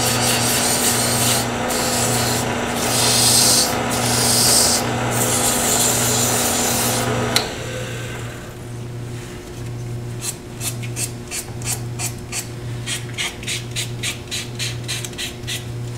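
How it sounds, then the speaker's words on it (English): Sandpaper rubbing a turning wooden bottle stopper on a lathe, finishing with 220 grit: steady loud abrasive hiss over the lathe's hum for about seven seconds, then quieter scratchy strokes and light ticking as sanding continues. "Sand it. And last is my 220."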